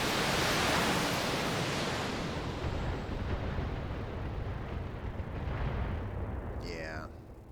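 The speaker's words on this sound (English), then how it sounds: "So we'll just fire the LRMs." A salvo of long-range missiles is fired at a mech in the BattleTech video game, a loud broad roaring rush of launches and impacts that dies away gradually over several seconds.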